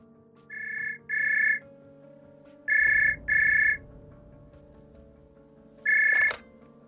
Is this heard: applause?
no